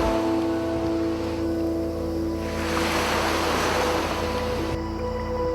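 Shallow surf washing in off the research station at Aldabra in the Seychelles, a steady broadband wash of breaking water that swells louder midway, with a low hum underneath, no voices.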